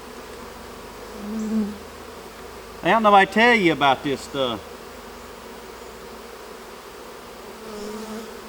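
Honey bees buzzing in a low, faint, steady drone around a beekeeping setting, with a person talking briefly over the hum.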